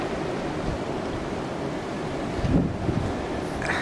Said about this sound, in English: The weather just said that the wind gusts are now reaching over 40 miles an hour.